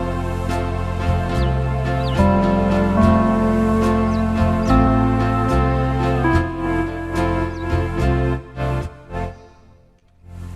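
An electronic organ's pedal glide played badly: sustained stacked organ tones stepping and sliding unevenly between pitches, loud and alone, breaking up into choppy stabs before trailing off near the end.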